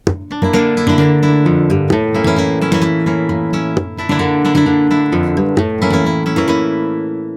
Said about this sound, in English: do a golpe with this thumb rest stroke